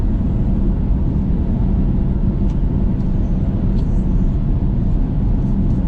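Inside a BYD Tang SUV on the move, tire roar comes mostly from the rear, a steady, dense low rumble without pause.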